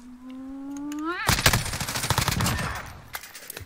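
Gunfire erupts in the video game Call of Duty after a rising synth tone, a loud burst of rapid shots clustered together, then a scattered tail of further reports fading out with one late crack.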